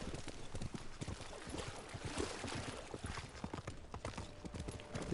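Horse hooves from the video game Ghost of Tsushima, a steady, fast clip-clop of a galloping horse splashing through shallow water, loud and continuous throughout with no talking.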